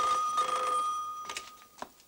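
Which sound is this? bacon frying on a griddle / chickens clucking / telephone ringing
telephone ringing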